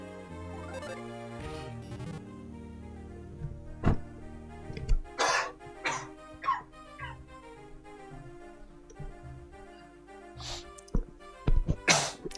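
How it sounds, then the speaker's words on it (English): A person coughs several times in short bursts over background video game music from Mother 3, with brief throat-clearing sounds between the louder coughs. "Sorry for the cough."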